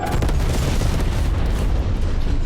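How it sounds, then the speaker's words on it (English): Napalm strike in a shooter video game: a loud, sustained roaring explosion with rumbling low-end fire that fills the whole moment without any talk. "Transmitting vector for napalm strike."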